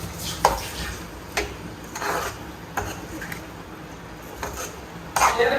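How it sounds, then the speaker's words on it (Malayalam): Prawns and onions stirred in a pan, with a few sharp scrapes and clinks of a spoon against the metal spaced through a quiet background, ending in a louder burst of scraping. "നന്നായിട്ടൊന്ന് മിക്സ് ചെയ്തെടുക്കാം."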